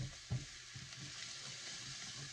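Spinach and garlic cooking in a pan for ziti, with a steady soft sizzle throughout and a couple of faint stirring knocks near the start, no talking.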